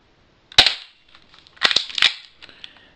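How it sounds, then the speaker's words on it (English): A spring-loaded 1911-style BB pistol fires several sharp snapping shots: one crack, then a quick cluster of three or four close together, each followed by a brief metallic ring, up close with no talk. "shoot a few rounds and show you how good it is"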